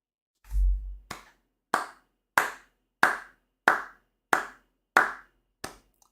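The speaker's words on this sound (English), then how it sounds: "A slow clap for you, my friend." Slow clapping of hands, about nine sharp claps spaced evenly at roughly two-thirds of a second apart, near and clear with no talking.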